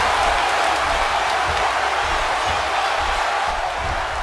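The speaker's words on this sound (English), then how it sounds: "Another electric crowd on hand here for SmackDown, as has been the norm over the years." A steady roar from a large arena crowd at a SmackDown wrestling event, continuous and fairly loud, a broad wash of cheering without distinct peaks.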